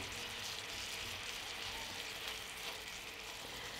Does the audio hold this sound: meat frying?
yes